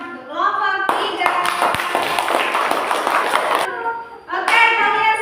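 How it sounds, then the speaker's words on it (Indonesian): Children clapping for a group in a classroom, a few seconds of brisk, close hand claps set between bits of a teacher's speech. "Kita beri tepuk tangan untuk kelompok 3."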